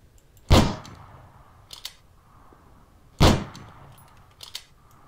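Two sharp, loud sniper rifle shots ring out in a video game, about three seconds apart. Each has a quick decaying tail, and fainter clicks and mechanical handling noises fall between them.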